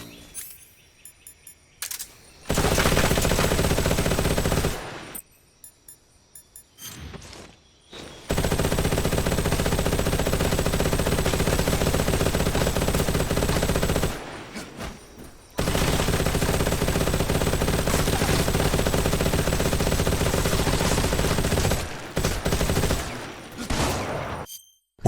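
In the Metal Gear Solid Delta game, a weapon fires in long, sustained bursts of rapid shots, loud and close, separated by short pauses and a few brief clicks.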